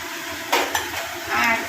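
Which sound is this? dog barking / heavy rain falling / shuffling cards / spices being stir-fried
spices being stir-fried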